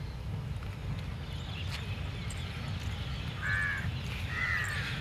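Crows caw from trees in two short harsh bursts near the end, heard at a distance over a constant low outdoor rumble.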